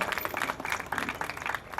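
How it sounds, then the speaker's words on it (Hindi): An audience at a speaking event claps vigorously, with dense overlapping applause that rises and falls in short surges and keeps going with no talk over it. "उन लोग के लिए एक बार जोरदार तालियां हो जाए, जोरदार तालियां हो जाए"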